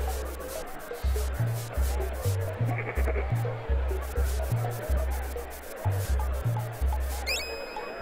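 Goats bleat repeatedly in a video game, the bleats set over a steady, pulsing game music track with a low bass line and some clicks.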